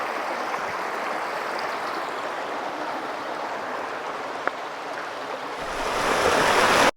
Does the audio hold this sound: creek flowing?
yes